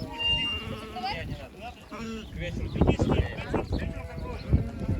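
Several sheep bleat near and far on the Kalmykia steppe, overlapping, while someone talks over them and faint hoof clatter sounds in the background.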